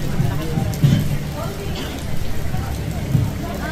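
Heavy rain falls as a steady, dense patter under someone talking throughout.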